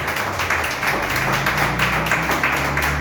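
A church congregation applauds, a dense continuous wash of many hands clapping at steady loudness throughout.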